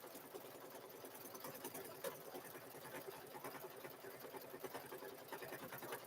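An embroidery machine runs a stitch on a quilted zipper bag held in the hoop, giving a steady, fast mechanical whir with a continuous buzzing texture, moderately faint and with no talking.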